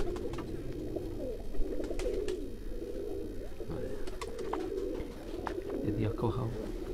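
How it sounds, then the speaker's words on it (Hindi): Tiger pigeons cooing softly in a breeder's loft, low repeated coos mixed with faint chirps and background noise while people talk nearby. "ये है जी टाइगर कबूतर, जी टाइगर कबूतर है जी"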